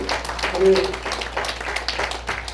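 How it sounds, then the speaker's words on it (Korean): A church congregation applauds the pastor in a steady wash of claps, fairly close and moderately loud, with a voice speaking over it. "우리 다 같이 한번 박수로 크게 정해 주시기 바랍니다"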